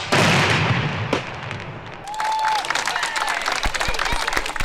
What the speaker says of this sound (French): j'ai beaucoup peur des feux d'artifice comme ça parce que c'est vachement proche parfois